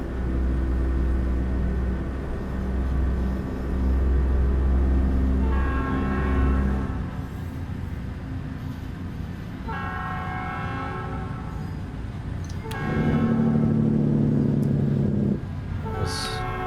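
A train passes at a rail crossing on an American road trip, its horn blaring in several long, loud blasts with the rumble of rolling railcars underneath, fading and returning over the span.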